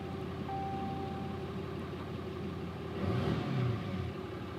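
A 2017 RAM 2500 Limited Mega Cab with a Cummins diesel engine gives a steady low rumble, with a brief swell in loudness near the end, heard from inside the truck with no talking.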